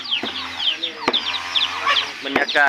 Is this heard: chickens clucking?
yes